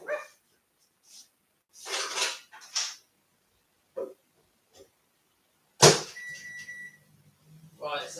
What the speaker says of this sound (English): The dogs are going to have a little bark.